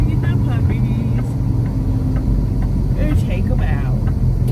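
Truck slowing down on the road, a steady low rumble of engine and tyre noise from inside the cab with faint clicks, while people talk quietly over it.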